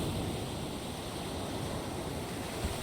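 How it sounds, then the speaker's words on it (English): Ocean waves in the video game Aoi Shiro, a continuous dense wash of surf rolling and folding over itself, steady and fairly soft with a faint windy rush. "I heard the heavy sound of 10, 20 waves folding on top of each other."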